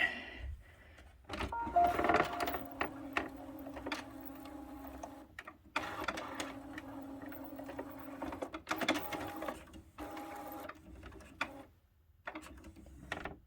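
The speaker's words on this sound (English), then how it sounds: "that seems to be functioning properly for accessing ink cartridges" An HP 6520 inkjet printer whirs and clicks as its carriage slides to the ink-cartridge access position, several short motor runs and mechanical clatters separated by brief pauses, close and clear.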